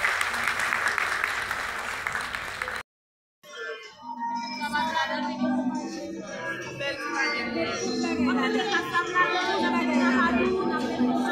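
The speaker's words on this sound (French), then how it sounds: "applaudissons-les. Encore une fois." An audience at a World Intellectual Property Day celebration claps loudly for about three seconds. The sound cuts out briefly, then returns as lively crowd chatter and overlapping voices.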